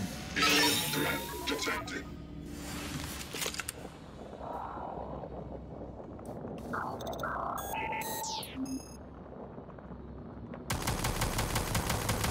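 Automatic turret gunfire in the video game Prey rattles in rapid bursts, with in-game clinks and a roaring ambience. A loud sustained burst of fire closes the passage, and a voice talks over parts of it.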